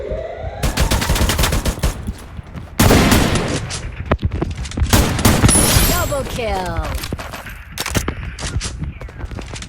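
Loud, rapid gunfire from a video game shooter rattles on almost without pause, with dense bursts of automatic fire and sharp single shots layered over one another.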